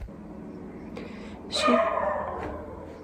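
A dog gives a short burst of barking at close range, with one sharp outburst rising above steady indoor room noise and then fading.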